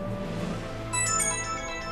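A short, bright phone ringtone sounds in South Park: The Fractured But Whole, rising out of continuous background game music partway through.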